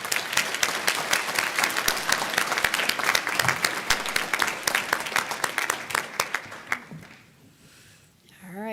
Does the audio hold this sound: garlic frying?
no